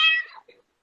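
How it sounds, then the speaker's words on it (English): A house cat gives one loud, drawn-out meow up close, followed by a brief fainter sound and the start of another call at the end. "Your cat made my cat jump away."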